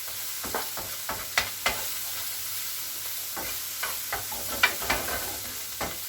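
Minced meat seasoned with paprika crackles in a hot pan while a utensil stirs it, sharp scraping strokes spaced irregularly over a steady low sizzle, no speech.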